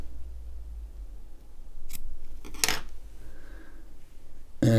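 Small scissors snipping excess cotton wick on a vape coil, a few quick close snips and metallic clicks over a quiet room background.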